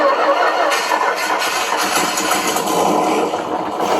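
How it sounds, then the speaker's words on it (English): A GT Power sound and light kit fitted to an RC car plays a simulated engine start, a steady broadband rumble and whine that holds at an even level alone for a few seconds. "Start that engine up."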